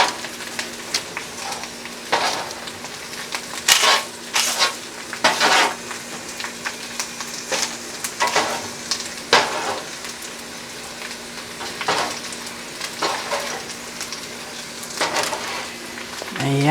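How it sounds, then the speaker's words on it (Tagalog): Green beans sauté with garlic in a hot pan, a steady crackling sizzle with sharper bursts of spatter and stirring scrapes throughout, fairly close and continuous with no talking. "igigisa ko na siya doon sa bawang"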